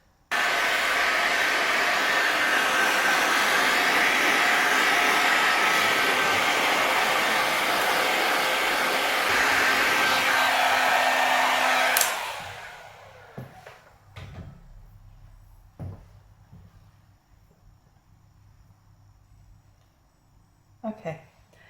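A hair dryer blows steadily and loudly on a freshly shaped clay pinch pot ball, running for about twelve seconds before cutting off, followed by quiet handling knocks.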